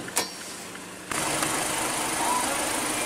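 A 2015 Mazda CX-5 engine idles under an open hood, a steady close hum with faint ticking that steps up louder after a brief quieter start.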